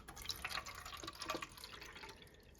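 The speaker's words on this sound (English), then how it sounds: "There we go, that's filled with water." Water running and dripping into the groove of a cheap ultrasonic glasses-cleaner tank, a steady close trickle with light splashy drips and no talking.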